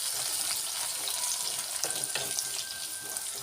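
Onions frying in a clay pot give a close, steady sizzle with a bright crackle and a few soft stirring clicks. The sound is continuous and moderately loud, with no voices.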